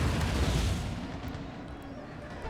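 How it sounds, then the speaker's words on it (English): Cannons loaded with canister shot fire in the Empire: Total War battle game, a heavy rumbling boom that swells at the start and slowly decays into a low roll, with faint distant crackle and no talking. "I'm going to switch these cannons down here to canister shot."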